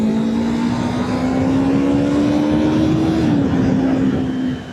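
A Yamaha R3 motorcycle exhaust on the move, a loud, smooth, steady engine drone whose pitch climbs slowly, dips once near the end, then fades out.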